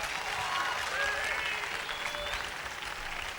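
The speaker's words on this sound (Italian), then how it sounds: "Che è un applauso questo" Live concert audience in Sonnino applauding a band's musicians, dense steady clapping with a few whistles rising over it, moderately loud and continuous across the moment.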